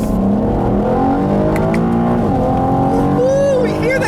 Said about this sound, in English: GM knows how to tune a stock exhaust